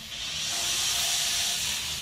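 Compressed air blasts through an oil reservoir line on a Mercury 225 Optimax outboard, a steady loud hiss held for about two seconds with no talking.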